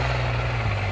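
A tractor engine runs at full RPM in first gear during harrow testing, a brief, deep, steady rumbling drone heard up close.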